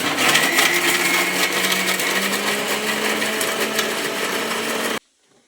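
A mixer grinder whirs steadily at full speed for about five seconds as it grinds lightly roasted ingredients for a home-cooked dish, with a loud, dense motor roar that cuts off abruptly at the end.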